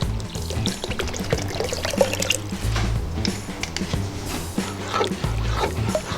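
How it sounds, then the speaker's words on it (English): Water is poured into a pot of roast beef gravy for a po' boy, a busy splashing, gurgling pour with scattered clinks and bubbling, moderately loud and close. "I'm gonna add 1 more water."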